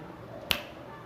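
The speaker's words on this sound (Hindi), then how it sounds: "आपको ऐसे करके 3 बार चुटकी बजानी है" A single sharp finger snap rings out once in a quiet room, short and crisp, with no one talking.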